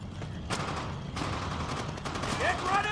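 Gunfire in the video game Call of Duty: World at War, heard as a steady stream of rifle and machine-gun shots in a beach assault, with a few louder bursts over a constant battle din and a voice briefly calling out.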